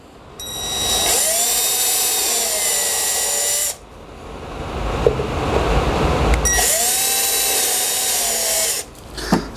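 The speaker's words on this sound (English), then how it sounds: "And then it says to drill it 1/8 inch." A power drill whines loudly while boring a 1/8 inch hole during installation of an Incra Clean Sweep on an Incra router table, running in two long bursts that rise and fall in pitch, with a brief pause between them.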